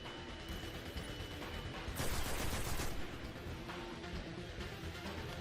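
An automatic rifle in Destiny 2 fires in a dense, continuous stream of shots that swells louder for about a second, set against a constant noisy game backdrop.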